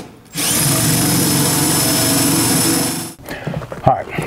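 A 1.5-inch cutout drill bit bores a hole during an AC and heater install on a classic Chevy or GMC truck, giving a loud, steady high-pitched whine for about three seconds before stopping, followed by brief handling noises.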